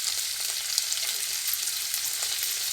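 Cabbage and carrots sizzle steadily as they stir-fry in a pan for a vegetarian sabudana pulao, a dense, even frying hiss with faint scraping from stirring and no voices.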